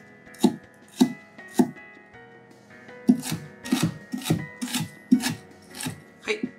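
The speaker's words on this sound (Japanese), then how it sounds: "らっきょうの甘酢漬けもちょっと粗みじんにしていきます。" A kitchen knife coarsely chops sweet pickled rakkyo shallots on a cutting board: a dozen or so crisp, close knocks, first spaced apart and then faster and more uneven.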